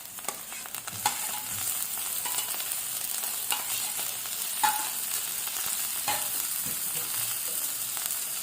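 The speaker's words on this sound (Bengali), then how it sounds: "এর মধ্যে আমি এবার দিয়ে দেব টমেটো কুচি" Chopped tomato stirred and fried in a pan for bitter gourd dorma, a steady close sizzle with occasional spoon scrapes and clinks over about eight seconds, no voices.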